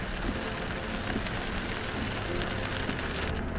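Steady rain falls in a dense, even hiss of drops pattering on surfaces, continuous and close with no clear breaks or voices.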